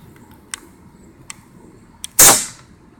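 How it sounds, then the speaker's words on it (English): A few faint clicks, then a loud burst of rushing air from an air cannon valve opening slowly, hissing strongly and slowly tapering off. "you can tell from the hiss sound the cannon makes that it is opening slow"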